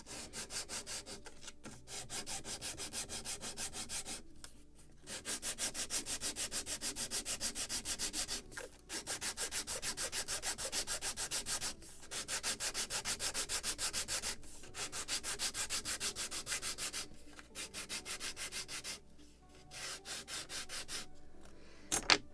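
Wooden plank being sanded to a slight chamfer for a Model Shipways model of the 1776 gunboat Philadelphia, steady back-and-forth rubbing strokes close up in several bursts separated by short pauses.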